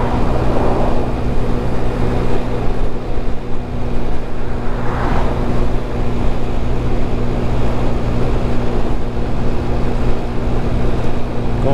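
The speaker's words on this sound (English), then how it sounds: "just give your scooter a nice little 2-3 mile run, just full throttle, keep your engine running pretty good" A GY6 50cc scooter runs at full throttle against the wind, its steady engine drone continuous and close, with wind rush over it and no one talking.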